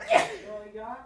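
A single quick sneeze bursts out near the start, followed by a person speaking briefly.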